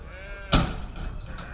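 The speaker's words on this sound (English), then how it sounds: "After the judging in the sheep pens, fine specimens of Swaledale sheep." A Swaledale sheep in the show pens at an agricultural show gives one loud, close bleat midway through, set against soft background pen noise.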